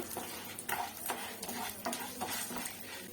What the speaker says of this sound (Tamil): எண்ணெய் ஊற்றிக்கோங்க உளுத்தம்பருப்பும் கடலைப்பருப்பும் போட்டு நல்லா வதக்கிடலாம் ஸ்லோ ஃப்ளேமில் வச்சுக்கோங்க